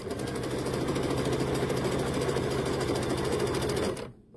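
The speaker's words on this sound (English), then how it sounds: "So we're gonna sew all of these." A sewing machine sews quilt squares with a quarter inch foot, a steady fast rhythmic whir that runs for about four seconds before cutting off abruptly.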